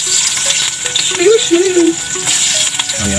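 Garlic and onion fry in a hot pan, a steady close sizzle with brief scraping stirs and a few light clinks of utensil on metal.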